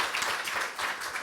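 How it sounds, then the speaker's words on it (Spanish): A brief burst of audience applause at a congress on reproductive health and cancer, a dense, even patter of many hands clapping for just over a second. "Sí, aplaude."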